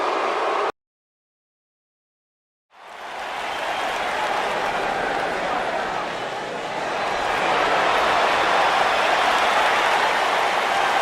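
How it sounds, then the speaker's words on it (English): A large Las Vegas arena crowd in the video game WWE 2K19 roars loudly and continuously after a brief cut to silence, the dense cheering swelling slightly toward the end. "This Vegas crowd really is this loud"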